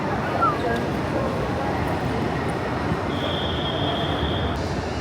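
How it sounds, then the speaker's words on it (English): Trains pulling into the platforms at Guangzhou South Railway station in China, a steady broadband rail rumble filling the hall with a faint high squeal near the end, heard close and continuous. "there's two trains coming in"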